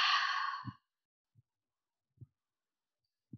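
Forceful open-mouth exhale during yoga breath work, a single breathy rush at the start, followed by a few faint soft low thumps in near silence.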